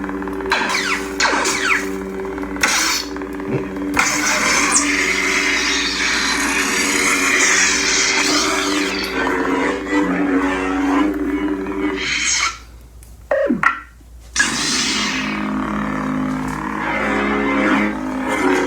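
A continuous electronic humming drone from a swung lightsaber replica with shifting swells and whooshes, loud and close, broken by a brief near-silent gap before the hum resumes.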